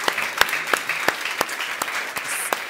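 A conference audience gives a round of applause, a steady wash of clapping with sharp individual claps standing out, moderately loud and continuous throughout.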